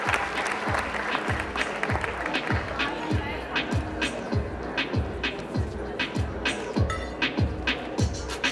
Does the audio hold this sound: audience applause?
yes